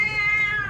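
A single drawn-out cat meow, loud and close, with a steady strained tone held for under a second and no talk over it.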